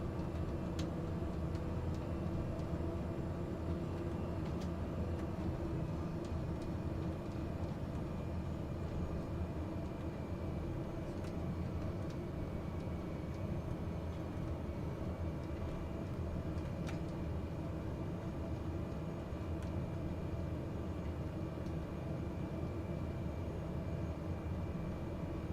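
A Cessna Caravan 208 turboprop engine in Microsoft Flight Simulator drones steadily at maximum propeller RPM, a constant dense hum with no pauses.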